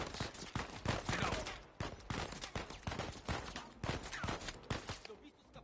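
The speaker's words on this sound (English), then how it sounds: "I'm being shot at." Dense gunfire aimed at the player in Uncharted 4, with rapid loud bursts of shots and fusillades that continue almost without pause, mixed with game sounds and some voices.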